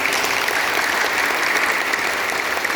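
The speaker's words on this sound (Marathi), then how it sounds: "त्यासाठी जरा जोरदार टाळ्या वाजवूया." An audience claps loudly and steadily at a fitness event organised by a Rotary Club at Shivaji University in Kolhapur, a dense, sustained applause filling the whole stretch with no speech.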